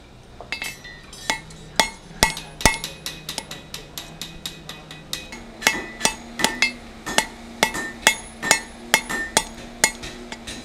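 Hammer forging hot steel on an anvil to make a monkey tool, a rapid series of sharp ringing metallic strikes, near and loud, that settles into an even rhythm of regular blows.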